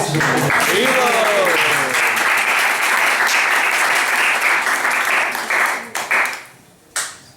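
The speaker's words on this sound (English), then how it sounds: "Big round of applause." Loud, sustained applause from an audience at a devotional training session, with some voices over the clapping, running about six seconds before fading out with a final brief burst.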